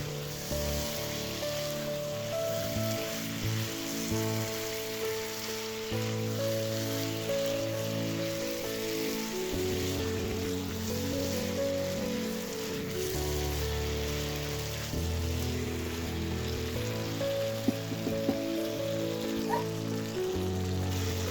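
Chicken being slowly sautéed in a pan for a Bengali chicken and eggplant dish, a steady dense sizzle and crackle running continuously at close range with no talk over it.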